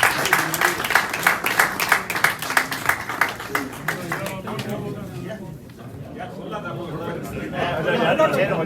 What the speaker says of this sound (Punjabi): ਤਾੜੀਆਂ ਮਾਰਦੇ ਲੋਕ